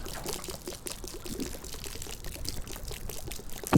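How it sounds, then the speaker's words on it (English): Continuous pouring water in the video game DayZ, a steady glitching trickle like a water fountain, fairly faint and unbroken throughout, ending on a brief louder knock. "I'm still hearing the pouring noise"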